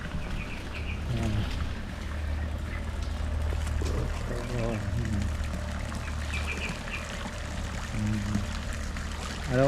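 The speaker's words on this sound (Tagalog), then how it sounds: "Araw-araw guys pinapasukan ko siya ng tubig." Fresh well water pours steadily into a backyard tilapia grow-out pond, a continuous broadband splash running the whole time with faint bird calls and occasional distant voices in the background.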